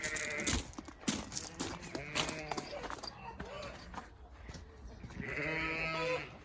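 Goats on a UK smallholding bleat repeatedly, and the loud, nearby cries overlap with people talking and hooves shuffling as the animals are let outside.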